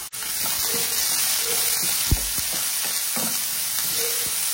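Urad dal, chopped onion, garlic, ginger and green chillies frying in hot oil for peanut chutney: a dense, steady close sizzle fills the whole stretch, with a few light spatula knocks and no talk.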